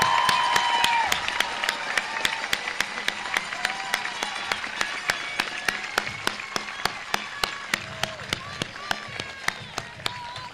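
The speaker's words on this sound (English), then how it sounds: "Please join me in giving these special students a round of applause." A high school graduation audience applauds special students, a broad wash of clapping and scattered cheers in a large venue, gradually fading while a regular sharp ticking runs through it.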